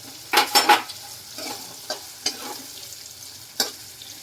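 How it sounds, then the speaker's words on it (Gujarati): Cut potato, carrot and cabbage stir-fried in a pan for farali khichdi, with a quick burst of close spatula scrapes and clatter followed by softer stirring strokes over a low sizzle. "કટિંગ કરેલું બટેકું ગાજર હવે કોબીજ નાખી દઈશું"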